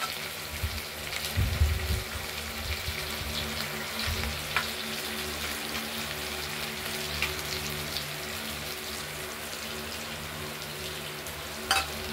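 Turmeric-spiced masala paste frying in a pan for a paneer bora and potato curry, a soft continuous sizzle with a few stirring scrapes and clinks, quiet and steady, no talk.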